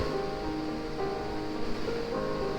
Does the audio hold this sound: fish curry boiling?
yes